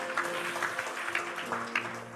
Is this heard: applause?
yes